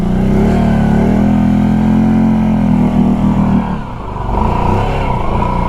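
A 2023 Kawasaki Brute Force 750 ATV engine revs loud and close, holding a strong steady drone before dipping briefly near the end and climbing again as the throttle opens, with no talk over it.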